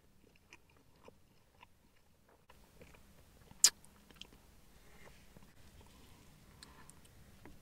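Someone bites into a Domino's cheesy stuffed crust fire breather pizza, giving a few faint crunches and soft chewing sounds, including one sharp crisp bite, with quiet background and no talking.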